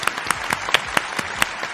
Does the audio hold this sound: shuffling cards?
no